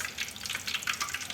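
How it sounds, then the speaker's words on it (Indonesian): Tofu patties frying submerged in hot oil, a dense, even sizzle and crackle close by, heard alone. "Intinya kalau goreng tahu"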